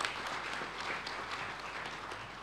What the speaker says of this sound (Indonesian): mari kita kasih tepuk tangan yang meriah untuk kita semua.